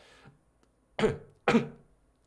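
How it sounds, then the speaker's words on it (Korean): Two sharp coughs burst out close by in quick succession after a brief breathy throat sound, then silence. "갑자기 기침 나와가지고"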